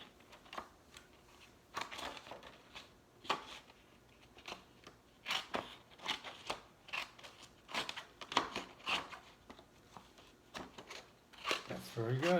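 Scissors snip repeatedly along drawn lines, a series of short sharp crisp cuts in uneven rhythm, close by, with light paper rustling and occasional voices between the snips.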